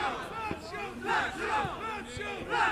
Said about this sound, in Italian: Si sentono molto questa sera i tifosi biancocelesti